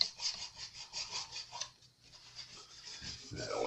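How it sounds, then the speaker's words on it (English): Cloth rubbing over the exposed wooden fretboard of a Yamaha acoustic guitar to dry it, soft rhythmic close strokes that pause briefly midway and then resume. "I'm going to dry it off one more time."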